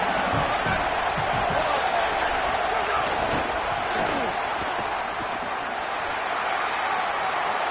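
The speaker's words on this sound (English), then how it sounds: "This crowd knows this defense needs them right now." Stadium crowd in the college football video game CFB27, a dense continuous roar of cheering and noise with scattered thumps, steady and loud throughout.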